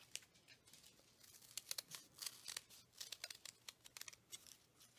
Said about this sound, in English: Now here we're going to cut two curves, but leave it attached here.